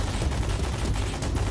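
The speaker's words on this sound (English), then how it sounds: "Tracer rounds, usually in a belt ammo, it's every fifth round." Belt-fed machine gun with tracer rounds in the ARMA 3 military shooter, a short dense burst of rapid, continuous fire at close range.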